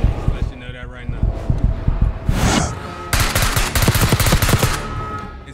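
Heavy gunfire in the shooter Black Ops 6, including shotgun blasts, crackles as a dense barrage of close, loud shots, with bursts around the middle and a sustained volley near the end, while a player talks over it.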